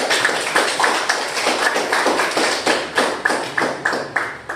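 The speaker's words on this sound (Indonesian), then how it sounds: "Tepuk tangan untuk kelompok." A classroom group of students claps together in steady, fairly loud applause, many hands overlapping in quick rhythmic bursts without talk.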